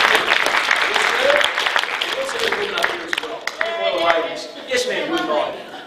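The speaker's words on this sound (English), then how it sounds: "Give this guy a round of applause." Audience applause at a real estate seminar, with dense rapid clapping across the room that holds steady for several seconds and then thins out. Voices can be heard over it.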